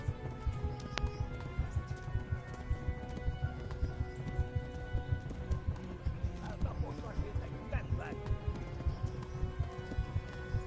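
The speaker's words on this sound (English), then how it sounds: "Come on, horse." A horse gallops in Kingdom Come: Deliverance, its hooves pounding in a fast, steady rhythm close by throughout, with faint birdsong and a brief high whinny-like sound partway through.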